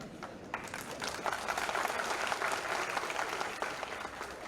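Audience applause at a spiritual motivational speech event, a dense, even wash of many hands clapping continuously throughout, moderately distant and steady.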